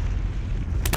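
A cartoon explosion from the Saiki Kusuo anime: a loud, dense, roaring burst filling the whole second, swelling sharply at the very end.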